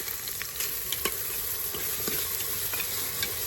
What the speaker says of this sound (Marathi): त्याच्यामध्ये थोडंसं मीठ टाकते म्हणजे ना टोमॅटो पटकन परतला जाईल.